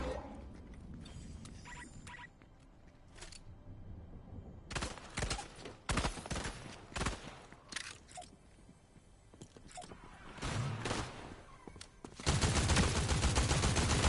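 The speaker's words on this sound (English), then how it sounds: "someone's always shooting me?" Gunfire in the video game Fortnite, with bursts of shots coming in irregular volleys and a dense sustained stretch of rapid fire at the end, loud and close with no talk over it.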